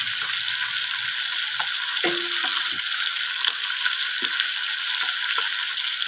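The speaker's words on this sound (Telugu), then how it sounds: "ఇప్పుడు ఉల్లిపాయలు వేసుకోవాలి ఫ్రెండ్స్" Onions sizzle in a hot pan for a village-style mutton curry, a steady hissing fry with a few faint clinks and stirring knocks.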